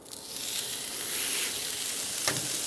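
A smash burger taco sizzles steadily on a flat-top griddle in beef fat, a loud continuous hiss of frying with no voices.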